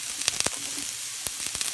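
Onion, garlic and vegetables hit a hot pan for a butternut squash hash, giving a loud, steady broadband sizzle with a few quick clatters of stirring.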